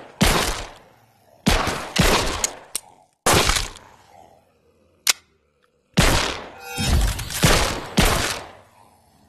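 Bursts of gunfire from the VR video game Monster Rampage VR, several loud separate volleys of rapid shots with short gaps between them, plus a few single sharp cracks, with no talking.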